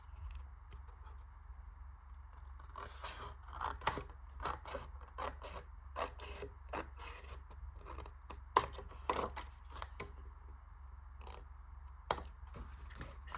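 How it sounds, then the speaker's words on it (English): Scissors cutting paper for a handmade double-flap pocket envelope, producing a quiet, close series of crisp snips and clicks at an uneven pace over a faint steady background hum. "Should use my bigger scissors, and I'm going to do the same and angle cut there."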